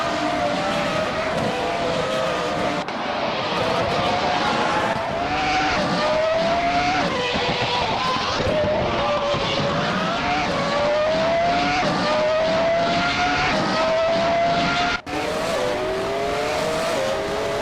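Race cars in a video game race roar continuously with repeated rising and falling engine pitch as they shift through gears, loud and close, with brief tire squeal.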